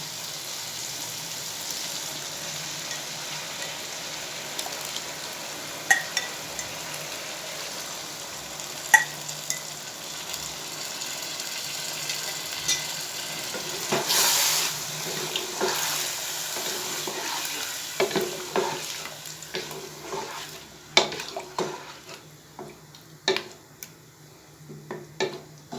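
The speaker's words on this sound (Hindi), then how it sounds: "इसको जस्ट हम थोड़ा सा भूनेंगे 1 मिनट, और उसके बाद इसमें हम दही लगा देंगे।" Masala for chicken biryani fries and is stirred in a pot just before yogurt goes in, a steady close sizzle with scraping spoon strokes that grow busier and more clattery toward the end.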